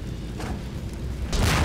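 RPG rocket explosion in Garry's Mod, a low rumbling boom over a steady roar, swelling louder and heavier near the end.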